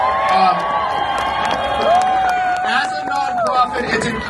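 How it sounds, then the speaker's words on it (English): An outdoor festival crowd at Frozen Dead Guy Days cheering, whooping and clapping for veterans, with loud voices and shouts layered over the applause. "Yeah, round of applause for our veterans."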